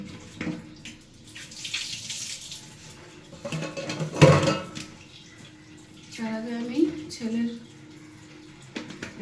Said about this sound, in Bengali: সব বোতলগুলো ধুয়ে নিই।